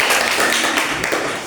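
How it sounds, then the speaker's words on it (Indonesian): A classroom gives a student group a short round of steady, fairly loud hand claps, with no voices over it. "kita beri tepuk tangan untuk kelompok"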